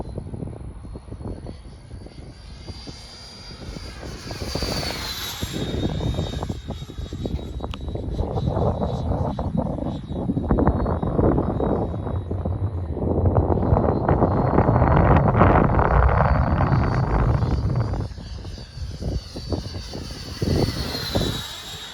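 A model airplane engine droning overhead in strong wind, its pitch rising and falling as it passes, with heavy wind buffeting the microphone throughout.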